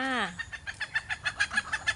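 A chicken flying over a rice field gives a short squawk, then clucks in a quick, steady series of close, rhythmic pulses.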